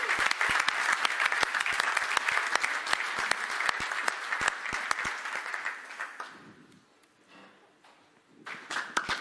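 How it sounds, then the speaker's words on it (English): An audience applauds at an Audi Formula E team car presentation, with dense, close clapping that fades to near quiet and then picks up again briefly at the end. "Huge round of applause."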